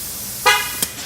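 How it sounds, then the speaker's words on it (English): A single short honk from a coin-operated tire air compressor at a gas station signals the tire is filled, a bright harmonic beep followed by a brief fainter blip against a quiet background. "Now, there it is. You heard one honk."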